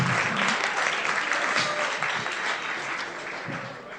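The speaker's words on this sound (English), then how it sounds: "we're going to clap a loud, annoying, drunken clap in 3, 2, 1" A loud, dense round of audience applause from a crowd at a tech happy hour party fills the room, steady throughout with a faint voice or two underneath, gradually easing off toward the end.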